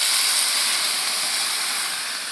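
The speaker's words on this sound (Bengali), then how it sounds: "জল ঢেলে দেবো," Water poured into a hot pan of cooking cauliflower sizzles and hisses steadily, loud and close, easing slightly over a couple of seconds.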